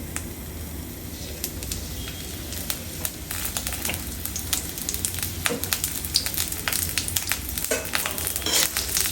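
Oil sizzles steadily in a pan with green chilies for a moringa leaf bhaji, a dense continuous hiss with scattered crackles and pops throughout, close and fairly loud, with no talking.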